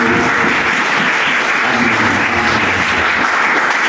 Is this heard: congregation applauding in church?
yes